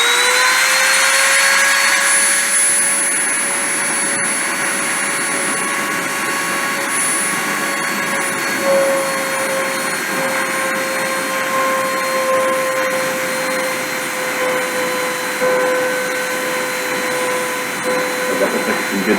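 Machine spindle test-running at 30,000 RPM, giving a steady high-pitched whine with constant tones and a faint airy hiss, continuous and unchanging for the whole stretch.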